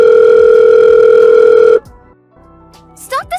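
A telephone line tone sounds loud and steady for just under two seconds, then cuts off abruptly, leaving faint background noise and a few soft sounds.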